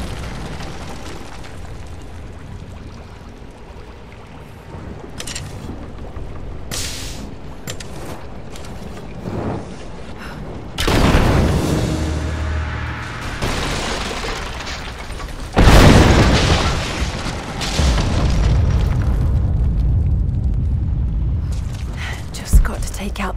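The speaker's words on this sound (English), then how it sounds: "Looks like I'll have to use Greek fire." Greek fire explosions in the video game Rise of the Tomb Raider, a flooded archive scene: deep booming blasts with rumbling debris, two big hits standing out over a steady game ambience, with some voice.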